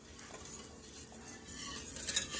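Egg and sugar whisked in a bowl for cinnamon rolls, faint quick scraping and tapping of the whisk against the bowl, quiet and close, growing slightly busier near the end.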